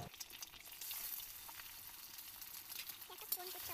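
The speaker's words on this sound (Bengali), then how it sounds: "কড়াইতে 1 চা চামচ পরিমাণ তেল দিয়ে ডিমগুলো একে একে ফাটিয়ে দিয়ে দিচ্ছি।" Eggs cracked one by one into a wok with a teaspoon of oil fry over medium heat for egg chowmein, giving a steady close, soft sizzle with faint crackles throughout.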